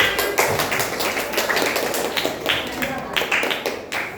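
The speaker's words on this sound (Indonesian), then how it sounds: "Tepuk tangan dulu untuk kelompok 5." A class claps for group 5 in a classroom. Quick, uneven claps come from a small group, sharp and close, and continue for about four seconds with no clear rhythm.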